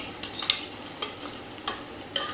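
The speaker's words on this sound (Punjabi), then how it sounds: "ਜੀਰਾ ਪਾ ਕੇ ਆਪਾਂ ਚੰਗੀ ਤਰ੍ਹਾਂ ਭੁੰਨਦੇ ਆਂ" Onion and cumin fry in a pan, a soft steady sizzle with a few sharp clicks and scrapes from stirring spaced through it.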